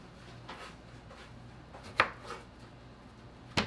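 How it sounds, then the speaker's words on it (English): A knife cuts a cucumber lengthwise in half on a board, giving a few soft scraping strokes and two sharp knocks of the blade against the board, close and quiet. "Now, I'm going to cut the cucumber long ways in half."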